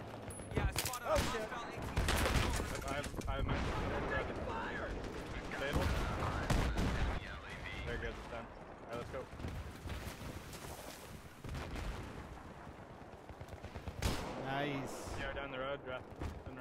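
Rapid bursts of automatic gunfire and explosive cracks in Battlefield 3 combat, loud and near, recurring through the whole stretch under frequent speech.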